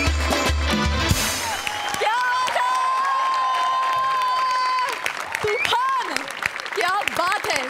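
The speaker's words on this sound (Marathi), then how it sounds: "सगळ्यांनी उभं राहून टाळ्या वाजवण्याच्यात सगळंच आलं" A studio audience at a Marathi comedy show gives a standing ovation, with sustained applause, cheering and whoops mixed with music and voices for several seconds.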